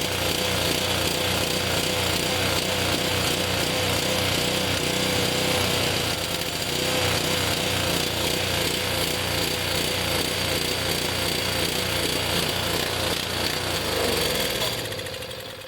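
Honda HS520 snowblower engine running on choke with too much fuel. It makes a loud, steady, rough clatter from close by that holds the whole time, then falls away briefly at the very end.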